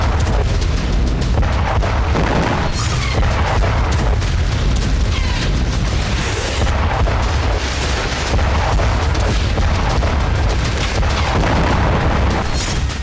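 Grad multiple rocket launchers fire in eastern Ukraine, producing loud, dense, overlapping booms and whooshing blasts in continuous rapid succession, close and overwhelming.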